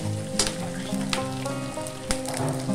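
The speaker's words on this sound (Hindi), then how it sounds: "इसमें अब डालेंगे कटी हुई मिर्च, इसे भी भून लेंगे अच्छी तरह।" Garlic and chopped green chili frying in a pan for Himachali-style poha give a steady, close sizzle with a few sharper crackles and stirring clicks, no talking.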